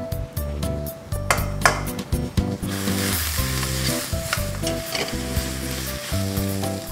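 Tomato, shallots and pounded spice paste sizzle steadily in hot oil for seafood tom yum fried rice, a loud continuous frying hiss with stirring scrapes, under background music and without talk.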